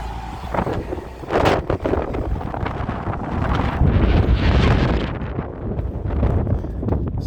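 Strong wind buffets the microphone outdoors on a trip between Watrous and Clayton, New Mexico, a loud, continuous low rumble that swells and gusts throughout with no clear speech.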